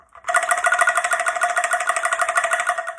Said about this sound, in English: this instrument is a percussion instrument from Malaysia, and it is made out of bamboo